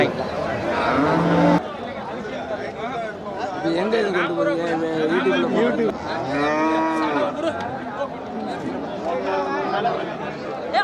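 Cattle moo repeatedly at the busy Namakkal Puthansanthai weekly livestock market, with several long, drawn-out calls close by over constant crowd chatter and nearby talking.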